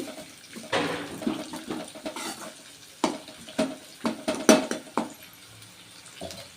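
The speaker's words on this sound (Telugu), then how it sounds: "పచ్చిమిర్చి కరివేపాకు వీటిని కొంచెం వేయించుకోవాలి" Green chillies and curry leaves tossed in hot oil with onions in a pan, giving a soft background sizzle broken by repeated clanks and scrapes of a utensil against the pan, with no talking.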